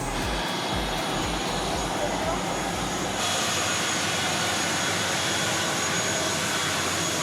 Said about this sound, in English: Prop plane.